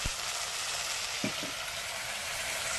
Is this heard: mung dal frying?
yes